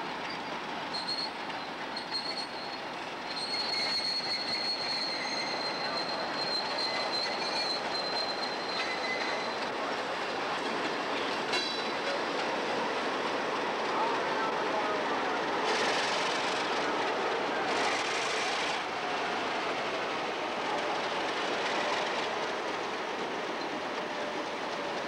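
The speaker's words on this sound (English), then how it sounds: "The train" A train passes the Station Road railway crossing in Western Shore, a steady loud rumble of railcars with squealing wheels and faint clicking over the rails, continuing throughout without voices.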